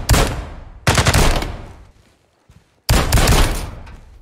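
Loud, close gunfire from a gun in the tactical shooter Ground Branch, three heavy blasts each trailing off with a long echoing decay, spaced by short silences.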